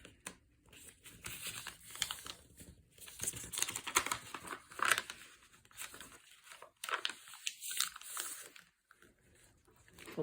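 Light tea-dyed paper being folded by hand into an envelope, giving quiet crinkles, rustles and soft creases that come in uneven bursts with brief pauses.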